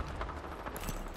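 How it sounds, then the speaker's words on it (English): Rapid clip-clop-like footfalls of players moving above in Apex Legends, a steady patter of near steps running through the whole short clip with a brighter burst toward the end. "I'm hearing footsteps up there."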